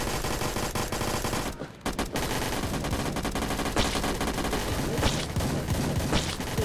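Rapid gunfire fills a Blackhawk Rescue Mission 5 firefight, loud sustained automatic bursts with a brief gap, then more shooting.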